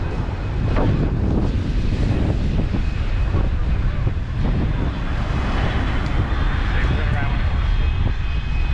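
Airplane flying low over Maho beach on Saint Martin, a loud, steady roaring engine rumble with wind buffeting the microphone, sustained throughout as the plane passes overhead; voices are faintly mixed in.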